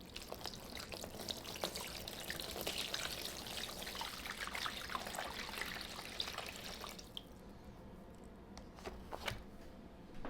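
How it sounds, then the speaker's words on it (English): Water is poured into the bottom of a seed tray of tomato seedlings in potting soil, a faint, soft trickle and splash that runs steadily and then tapers into scattered drips. "So we're going to pour some water in the bottom of the tray."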